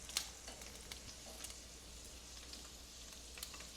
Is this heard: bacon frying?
yes